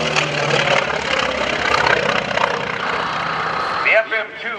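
The engine of an FM-2 Wildcat fighter plane, the General Motors-built version, drones steadily as it flies at a 2015 airshow at NAS Oceana, with a voice talking over it.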